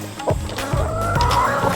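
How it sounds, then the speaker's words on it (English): Broody farm hens, upset at having their eggs taken, give low throaty clucks and grumbles close by in a henhouse, with steady background noise and no talk. "Some broody hens who are not happy about us taking their eggs."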